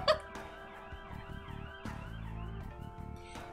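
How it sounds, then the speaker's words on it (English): An ambulance siren wails outside with rising and falling tones, faint and distant, continuing steadily throughout with no talk. "Can you hear the ambulance?"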